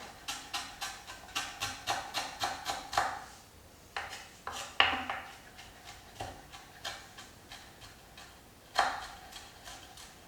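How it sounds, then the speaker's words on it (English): A knife chops ingredients fine on a board for a prawn curry, with rapid rhythmic close knocks in bursts separated by brief pauses. "Chop it nice and fine."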